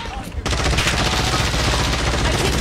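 Gunfire in a first-person shooter video game erupts suddenly into a dense, continuous barrage of rapid shots, loud and close, with a faint voice beneath it.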